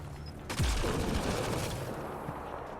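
Rapid burst of gunfire in the video game Mass Effect Andromeda, a sudden loud volley of shots that rings on with a rattling tail, with no talking.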